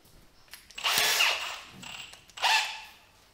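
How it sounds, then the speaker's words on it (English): A power drill drilling out bolts on an International Scout whirs in two bursts, the first longer, the second short, with a high-pitched grinding whine close by. "These two, I think we're just gonna drill them."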